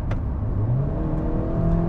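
A 2020 KIA Sonet engine accelerates from 80 to overtake on a toll road, its mid-pitched note rising steadily over a constant whir of road noise, heard from inside the cabin.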